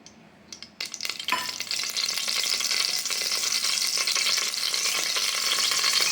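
Cooking oil heats and crackles in a pressure cooker on the stove while Tamil mint pulao is made, a dense, steady sizzle that swells after a soft clatter and then holds loud and continuous with no talking.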